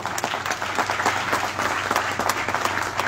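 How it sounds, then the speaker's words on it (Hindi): An audience applauds at a team talk in India, producing a dense, steady patter of many hands clapping at a moderate level, with a faint low hum running underneath. "तो बजाओ ताली"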